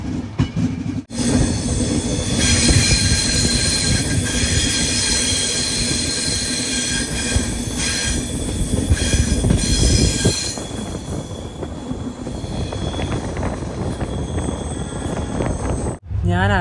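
The Uday double-decker train running from Bengaluru to Coimbatore gives a loud, steady rumble of wheels on track with squealing and metallic rattle, heard from inside the carriage.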